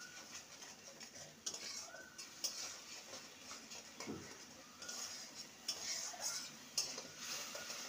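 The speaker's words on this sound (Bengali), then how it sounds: "এবার সমস্ত কিছু ভালো করে কষিয়ে নেব।" Spices and cumin powder sautéing with pointed gourd in a pan, faint and quiet, with scattered scraping and clinking strokes of a spoon against the pot over a low sizzle.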